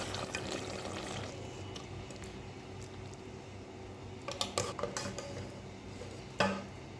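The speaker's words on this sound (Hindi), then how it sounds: "अब हम इसको डिश आउट कर लेते हैं।" Potato and capsicum curry being served from the pan. There is a low wet bubbling bed, then a cluster of sharp metal clinks from a spoon on a pot near the end, followed by one louder knock.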